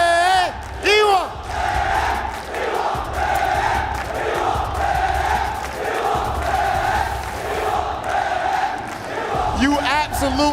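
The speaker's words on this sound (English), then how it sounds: "This crowd, so much support for you." Esports tournament crowd at a Fatal Fury: City of the Wolves event at EWC, chanting and cheering loudly in a large arena, a dense continuous roar with rhythmic shouted chant bursts and whoops.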